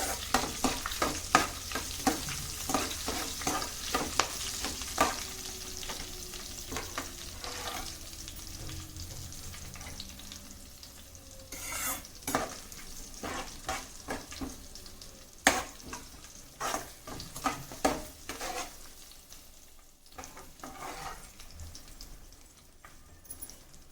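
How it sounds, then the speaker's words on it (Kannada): Cashews frying in a pan and stirred, soft continuous sizzling with frequent light scraping taps of a spoon, fairly quiet and close, easing off toward the end. "ಸ್ವಲ್ಪ ಗೋಡಂಬಿ ಸ್ವಲ್ಪ ಫ್ರೈ ಆಗೋವರೆಗೂ ಈ ಥರ ಅಲ್ಲಾಡಿಸ್ತಾ ಇರಬೇಕು."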